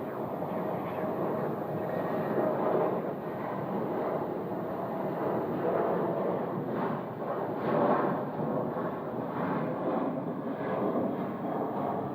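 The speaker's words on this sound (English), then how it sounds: "This will be another landing on 25 left." A fixed-wing airplane landing on runway 25 Left at Phoenix airport makes a steady, loud engine roar with broad rumbling noise that swells and eases slightly over about twelve seconds, with no voices.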